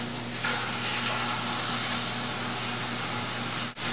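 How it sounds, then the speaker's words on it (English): Flank steak sizzling in canola oil in a hot skillet, a loud, constant close-up frying hiss that holds steady throughout and dips briefly near the end. "And into the pan it goes for about a minute, minute and a half on each side."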